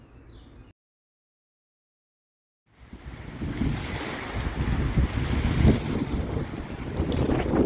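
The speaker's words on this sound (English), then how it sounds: "Today was very windy." After a brief dropout, strong wind roars and buffets the microphone on a rocking fishing boat, with rushing water and the low rumble of the boat beneath it.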